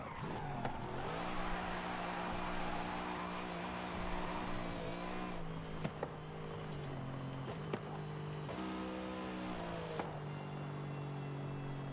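Mercedes-AMG C63 engine in Forza Horizon 5 revs and shifts through gears, a sustained buzzing roar that steps up and down in pitch with tire squeal, heard steadily and fairly faint.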